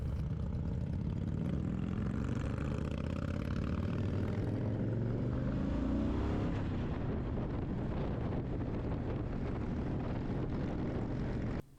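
Honda Fury motorcycle riding on open roads, a steady low engine drone buried under heavy rushing wind buffeting the microphone, continuous and loud with the engine note shifting slightly midway.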